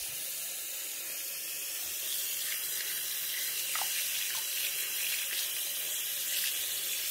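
Tap water runs steadily into a baby's bath at bathtime, a soft continuous hiss and splash at moderate distance with no talking.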